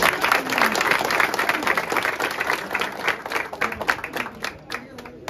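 Loud, steady crowd applause with dense clapping throughout, at the opening of a Govinda pathak practice session honouring guests, with a few voices under the clapping.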